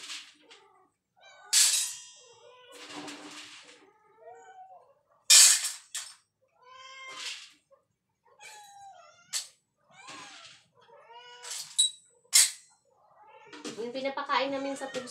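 Several household cats meow and yowl repeatedly in short, varied calls close by at feeding time, mixed with bursts of loud speech.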